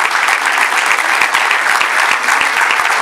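Dense, steady applause from an audience at an education and pedagogy lecture, loud and continuous throughout with many overlapping claps and no voices over it.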